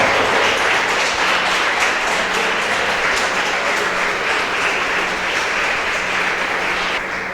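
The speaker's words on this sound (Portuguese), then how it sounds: "Vamos aplaudir bem forte ao Senhor?" A church congregation claps loudly and steadily in a dense, continuous wash of applause that fades slightly toward the end.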